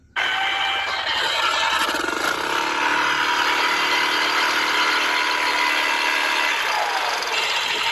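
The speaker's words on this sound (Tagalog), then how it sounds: "Nag-PM sa akin si sir na maingay daw yung kanyang makina." An engine whose owner reports it running noisily makes a loud, constant, harsh mechanical whirring drone with no change in level, heard alone and close.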